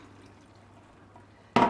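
Water is poured from a can into a pot of chili con carne, a short loud splashing burst arriving at the very end after a quiet stretch of faint kitchen background.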